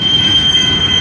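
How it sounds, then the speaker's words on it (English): Freight train working out of a rail yard at a junction crossing, a loud close rumble of rolling cars with a sustained high wheel squeal running over it. "Have a train working out at the yard,"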